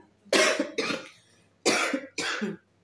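Four harsh coughs from one person, close by, in two pairs separated by a short pause.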